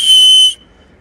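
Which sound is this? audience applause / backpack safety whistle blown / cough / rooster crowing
backpack safety whistle blown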